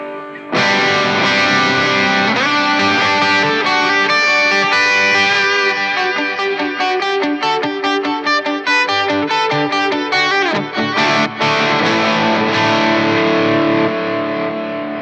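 Heavily distorted electric guitar from a Donner Arena 2000 on the SL drive setting plays a continuous run of loud chords and riffs, sustaining throughout without pause.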